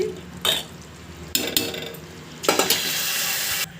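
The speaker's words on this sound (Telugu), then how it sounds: "ఇప్పుడు ఒకసారి ఇలా గరిటె పెట్టి బాగా కలిగి తిప్పుకోండి" A ladle stirs sago payasam with vermicelli and cashews in a pot, giving bursts of scraping, bubbling kitchen noise with a sizzling hiss that swells and drops off in three uneven waves.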